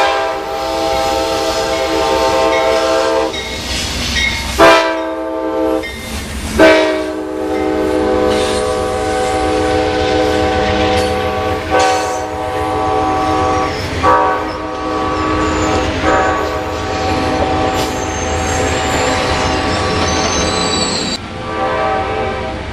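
An Amtrak express train passes loud and close, its rumbling wagons and wheel noise running throughout while a horn sounds in repeated long blasts and several shorter toots.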